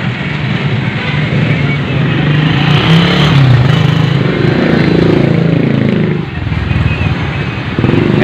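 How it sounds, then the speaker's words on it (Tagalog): Motorcycles squeeze between vehicles stuck in heavy traffic, their engines droning and revving steadily nearby over a dense rumble of road noise that dips briefly before returning. "Yan mga single na motor po"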